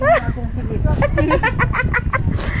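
A rooster crows loudly up close at a family gathering in Mindanao, Philippines, its drawn-out call rising and falling over a busy background of people talking.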